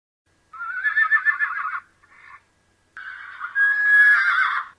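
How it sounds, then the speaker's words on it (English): Two agitated horses at a stable whinny loudly and close by, one long shrill neigh followed by a short one, then a pause and a second drawn-out, rising whinny, with no voices. "There seems to be 2 horses stamping and rearing."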